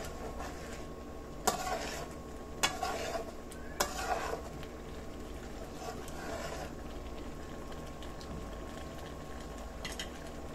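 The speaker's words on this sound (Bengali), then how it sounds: "একদম আলতোভাবে এই জলপাইটাকে নেড়ে চেড়ে রান্না করে নিতে হবে।" Olives cooking gently in a pot for a sweet-sour pickle, a soft low bubbling simmer with a few sharp scraping strokes of a spoon against the pot, fairly quiet and close.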